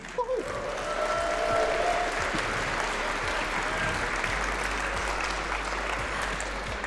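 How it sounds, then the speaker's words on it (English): Sustained, even applause from the crowd at the Revision 2025 demoscene event's Meteoriks awards, steady throughout, with a brief faint tone near the start. "please give them a round of applause"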